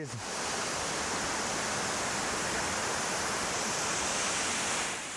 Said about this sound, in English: The waterfall is very close.